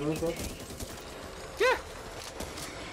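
Gunfire in the zombie shooter game Back 4 Blood, a short burst of shots at a cemetery with a sharp electronic whine near the middle, under ongoing game noise and some talk.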